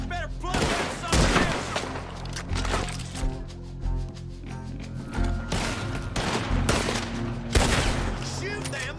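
A gunfight in Red Dead Redemption 2, with loud bursts of rapid gunshots and single cracking shots in clusters against a rumbling background, while voices shout over the firing.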